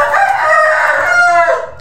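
A rooster gives a single loud, close crow lasting under two seconds, clear and strong before trailing off at the end.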